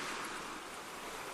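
Ocean waves washing onto a beach, a steady broadband rush of surf with no distinct breaks, fairly soft and continuous, no voices.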